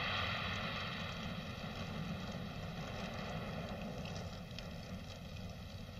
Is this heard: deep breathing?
no